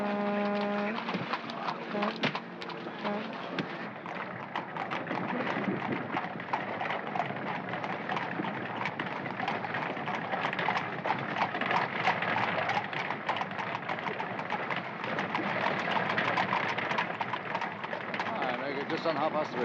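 Horse hooves pulling a cab through 1970s-film New York streets, a steady clip-clop rhythm running under near-constant talk and a rumbling background.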